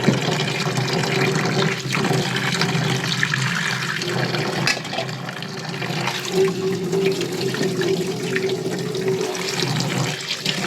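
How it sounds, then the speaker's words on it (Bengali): Sago pearls are washed by hand in water, giving a loud, continuous rush and slosh of running and swirling water close by, with no talking. "এটাকে পানি দিয়ে ধুয়ে নেব"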